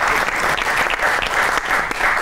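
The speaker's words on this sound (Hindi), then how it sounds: "आपकी बहुत सी तालियों में सादिया सुहेल" A studio audience at a comedy talk show applauds a guest with dense, continuous clapping that stays loud and even throughout.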